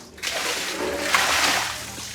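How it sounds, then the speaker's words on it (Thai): Water is poured into a cooking pot at an outdoor home kitchen, a close, steady splashing gush lasting about two seconds, with no talk over it. "เอาเทน้ำมาก่อน"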